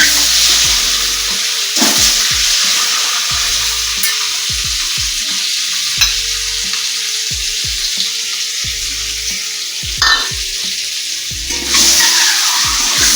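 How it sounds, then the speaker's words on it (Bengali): Boiled eggs coated in turmeric fry in hot oil in a pan, giving a steady close sizzle broken by scattered pops, spatters and a few stirring clatters, with no voices. "এই ডিমগুলোকে আমি একটু ভেজে নেবো।"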